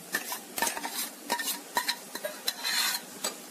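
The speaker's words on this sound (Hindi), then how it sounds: "ये पेस्ट हमने डाल दिया है, इसको मिक्स करेंगे और धीमी आंच पे इसको भूनने देंगे।" A spoon stirs masala paste frying on low heat for restaurant-style matar paneer, giving repeated scraping strokes over a soft sizzle close by, with no voice.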